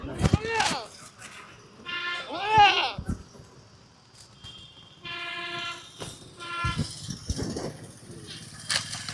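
Goats bleat in short wavering calls at a bakra mandi livestock market held for Eid al-Adha, mixed with nearby voices and crowd bustle.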